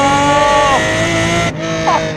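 A Lamborghini Murcielago's engine while driving, loud and close, holds a steady tone, drops briefly with a gear change, then climbs again.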